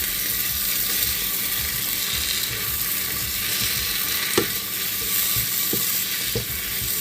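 Coriander and mint leaves are stirred into a frying biryani masala in a pan for Thalassery chicken biryani, giving a steady close sizzle with a few sharp scrapes of the spoon near the end.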